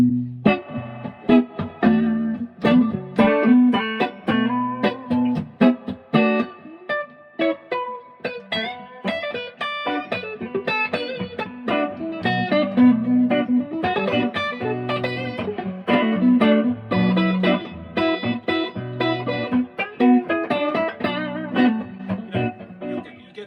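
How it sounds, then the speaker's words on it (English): A clean electric guitar through a sixties Blackface Fender amp plays a continuous melodic line of ringing, sustained notes and chords, warm and undistorted, with no talking. "It's a singing, sustainy, clean sound, which, you know, the Blackface era amps do so well"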